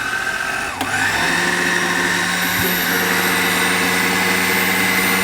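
A Panasonic food processor blender runs after a short start-up, its motor giving a loud, steady high whine with a constant hum underneath, close and uninterrupted with no talking.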